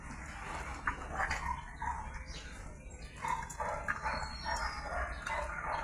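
Small one-month-old Labrador puppies yip and bark in short, scattered bursts at close range over steady background noise, with faint voices at times.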